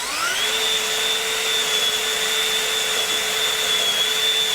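A steady, high-pitched motorized whine from a power drill boring a hole up through an RV roof, running continuously at constant speed after a brief spin-up.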